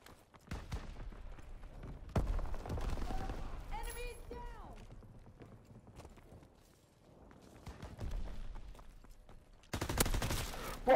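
Gunfire in Call of Duty: WWII, sharp shots and bursts scattered through a busy multiplayer fight, with loud clusters at the start and end and players talking over the action.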